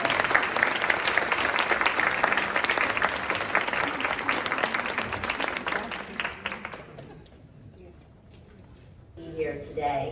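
An audience at a speech at St. Ann's applauds to welcome a speaker, with loud sustained clapping that fades after about seven seconds before a voice begins.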